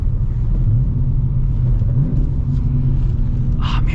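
A Dodge Challenger R/T with a manual gearbox gives a deep, throaty idle rumble close by, with the pitch lifting briefly in a throttle blip before settling back.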